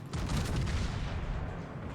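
Battleship secondary guns fire in World of Warships, a dense, loud rumbling barrage of overlapping booms that rolls on continuously for a couple of seconds.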